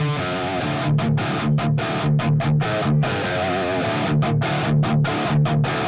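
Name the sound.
high-gain distorted electric guitar with too much mid-range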